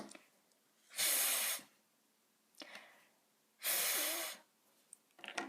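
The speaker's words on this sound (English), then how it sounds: "Stick your tongue out and blow." A voice blows air out over an outstretched tongue to make a TH sound, giving two long, loud breathy hisses with softer puffs and breaths between them.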